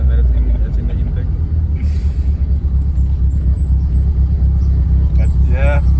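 An Opel C20XE engine with throttle-fed intake rumbles loud and close inside a car, a steady low droning roar with faint higher whine over it, while a voice talks briefly underneath.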